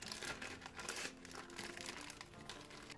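A plastic zip-lock bag crinkles and rustles continuously up close as soy-based food ingredients are put into it, with no talking.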